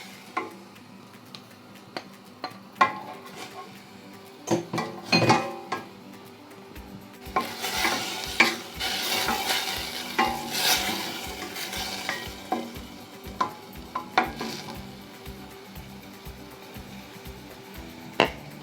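Onion, pepper and chives stir-fry in a pan with a little oil, a loud sizzle rising midway under rhythmic scraping and tapping of a utensil against the pan.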